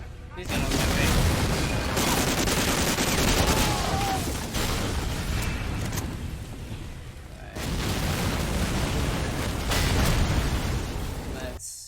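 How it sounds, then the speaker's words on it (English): Heavy booms and rattling gunfire in the World War II shooter Medal of Honor Allied Assault, dense loud blasts rolling almost continuously with short dips between volleys. "Everything is exploding, let's save."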